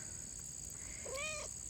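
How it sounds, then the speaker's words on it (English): A barn cat on a farm gives a single brief meow, faint and somewhat distant over a steady high-pitched outdoor hum of insects. "I see a little barn cat in here."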